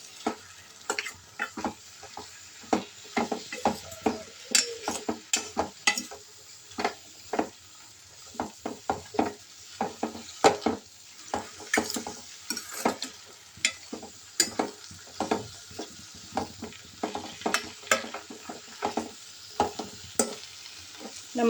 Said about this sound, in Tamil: இதை நம்ம நல்லா கிண்டி விடணுங்க.